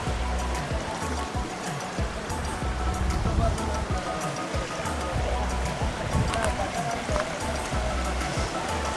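Water from a forest stream near a waterfall rushes and gurgles continuously, loud and close, with a textured churning that holds steady throughout.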